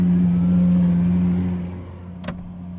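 A Lamborghini Aventador SVJ engine idles outside, heard muffled from inside a Rolls Royce as a steady low hum that fades partway through, followed by a brief faint click.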